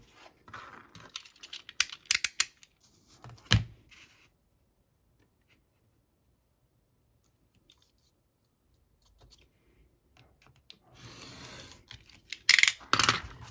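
A paper file folder being cut down to size, heard as crisp, close cutting and rustling in two bursts separated by a long stretch of near silence.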